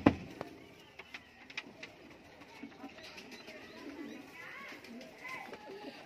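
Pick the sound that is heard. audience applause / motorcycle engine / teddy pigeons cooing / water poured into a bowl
teddy pigeons cooing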